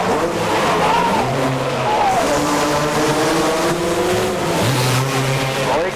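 Quads and motorbikes racing around the Orange County Fair Speedway dirt oval, engines screaming loud and continuous, with pitch rising and falling as riders accelerate and ease through corners, several machines overlapping.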